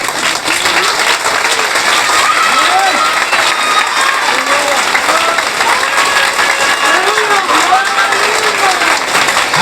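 A congregation at a Christian church service claps loudly and steadily, with raised voices shouting and cheering over the dense applause throughout.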